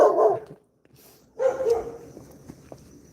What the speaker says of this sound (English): Dog got mad at me.